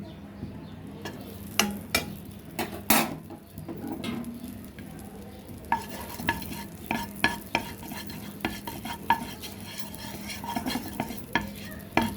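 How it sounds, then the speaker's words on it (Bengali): Butter sizzling in a wok on the stove as it cooks: a soft continuous frying hiss broken by sharp scraping and stirring clicks from a utensil, close and moderately quiet. "কড়াইতে একটু বাটার দিয়ে দিলাম"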